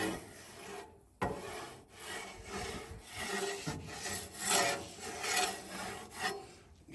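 A metal spatula scrapes and rasps ground turkey across a grill at medium heat, with repeated gritty strokes and brief pauses between them, close and fairly loud.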